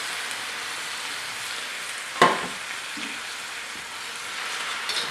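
Ground beef and potatoes fry loudly in a pan with a continuous dense sizzle, broken once by a sharp utensil clack against the pan before the hiss settles back to steady.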